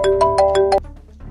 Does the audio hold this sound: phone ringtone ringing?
yes